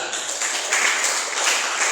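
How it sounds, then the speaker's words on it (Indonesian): Church congregation applauding, a steady broadband patter of many hands clapping together, fairly loud and continuous throughout the short stretch without any talk. "Tepuk tangan bagi Tuhan."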